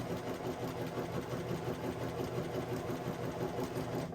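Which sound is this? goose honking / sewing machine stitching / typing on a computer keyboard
sewing machine stitching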